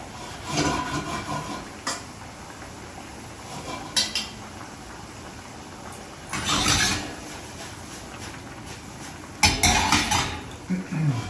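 A pan and metal utensils handled at a seafood cooking demonstration while getting ready to cook mussels, with irregular clanks and scrapes in separate bursts over a quiet room background.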